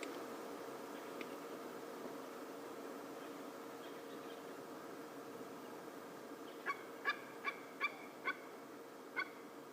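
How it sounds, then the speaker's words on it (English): Fish eagles call in an African safari setting as a short run of about six sharp, fairly distant cries near the end. Beforehand there is a quiet stretch of steady low ambient hum. "I can still hear the fish eagles."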